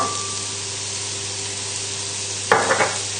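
Chopped mushrooms, shallots and thyme dropped into hot oil in a pan, a sudden loud sizzle bursting out after a steady background hiss, close by, with no talk.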